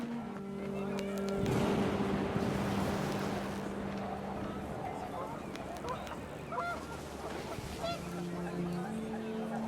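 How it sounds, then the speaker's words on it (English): Panicked geese honking in the video game What Remains of Edith Finch, a loud flurry of overlapping honks and wingy noise rising over a steady music drone, then fading away. "The wind picked up, and panicked geese appeared and quickly went."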